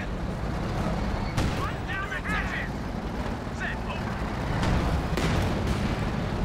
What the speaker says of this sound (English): Another incendiary barrage. Or phosphorus barrage.